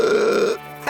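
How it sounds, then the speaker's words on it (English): A single long, deep cartoon burp from a girl character who has eaten too many apples, loud and close, cutting off abruptly at the end. "letting out a huge burp"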